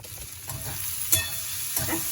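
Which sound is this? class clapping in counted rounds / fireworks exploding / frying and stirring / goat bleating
frying and stirring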